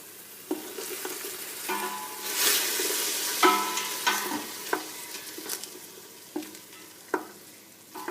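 Diced onions and mixed peppers sizzle in hot extra virgin olive oil for a chilli con carne, with close, steady frying broken by repeated scrapes and knocks of stirring in the pan.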